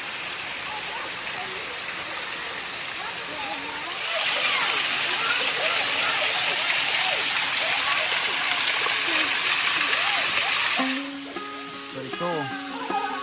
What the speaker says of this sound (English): Pretty nice little waterfall.